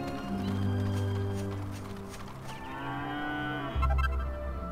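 Cows moo in the Dragon Quest VIII video game, a long low call followed by a second shorter moo, loud and close with no talk over them.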